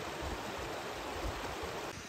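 A mountain river deep in the countryside flowing steadily, a continuous broadband rush of water heard close and unbroken, with no voices.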